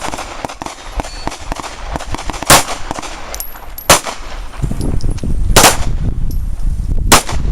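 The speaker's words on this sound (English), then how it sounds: "and fire one round" Handgun shots fired at a target on an outdoor range, sharp loud cracks standing out at intervals over background noise and more distant reports, with no talking.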